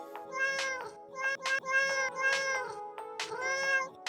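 Cat meowing repeatedly, about half a dozen close, clear, tonal meows in an uneven rhythm, some drawn out and wavering, over a quiet background.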